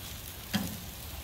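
Beef ribs and sausage sizzle on a backyard grill, a steady quiet crackle with one brief louder pop, heard with no talk over it.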